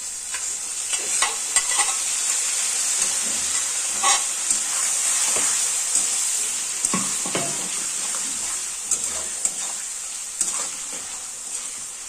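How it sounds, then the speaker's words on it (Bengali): Potatoes fry in spice paste of green chilli, dried chilli and ginger for a fish-head muri ghonto, a steady bright sizzle running throughout with scattered scraping stirs and clinks, close and continuous, no talking. "আবার আলুটাকে একটু ভাজা ভাজা করবো"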